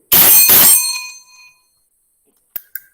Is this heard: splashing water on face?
no